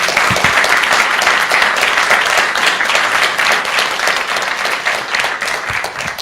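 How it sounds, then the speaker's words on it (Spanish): An audience at a rural expo talk on silvopastoral systems applauds the panel, dense sustained clapping from many hands that carries on steadily and thins only slightly toward the end. "para quien pido un aplauso, por favor, en agradecimiento"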